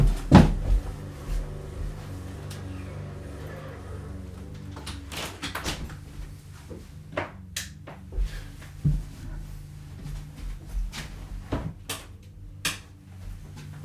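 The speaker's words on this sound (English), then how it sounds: "I'm just gonna go close the door" A door is shut indoors, with a sharp thump near the start followed by scattered lighter knocks and clicks of a latch and movement, fairly close and without talk.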